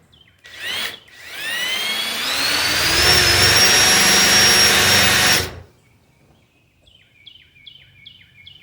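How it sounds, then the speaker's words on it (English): A power drill whines up loudly and runs steadily for several seconds boring into wood on a pig pen build, then cuts off, leaving quiet with faint chirps in the background. "we're going to put our drill bit right where our little circle is"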